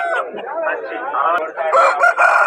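At a rooster market in Vijayawada, a rooster crows in a loud, close, drawn-out call, followed by more harsh crowing and clucking-like bursts, with market noise faintly behind.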